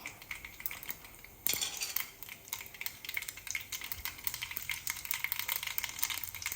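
Mustard seeds, cumin seeds and dry red chili crackle and sizzle in hot oil for a temple-style curd rice tempering. A steady stream of sharp pops and spatters starts abruptly and keeps going close up, with no talking.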